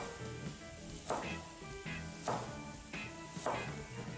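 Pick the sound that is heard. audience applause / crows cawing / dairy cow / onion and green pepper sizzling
onion and green pepper sizzling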